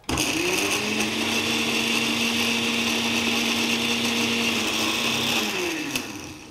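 A blender whirs steadily as it purées pineapple into frozen yogurt, a loud continuous motor drone that starts abruptly and runs nearly six seconds before winding down.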